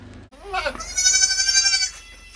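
A goat gives one drawn-out, wavering bleat lasting over a second, close and loud, preceded by a brief low rumble.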